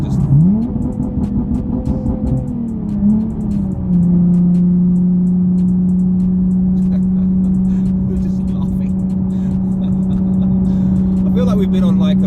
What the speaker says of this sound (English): It just blips the throttle really fast